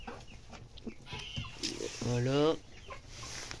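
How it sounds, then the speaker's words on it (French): Chickens and roosters cluck in an aviary, scattered short clucks and one louder drawn-out call near the middle, while someone speaks briefly nearby. "Un coq de cette année. Un autre coq de cette année qui est derrière."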